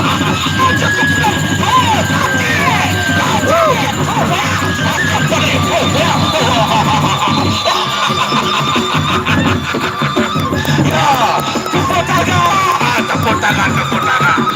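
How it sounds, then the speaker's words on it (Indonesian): Dense crowd noise with cheering and shouting at a live traditional performance, loud and continuous throughout with voices mixed in. "Tepuk tangan."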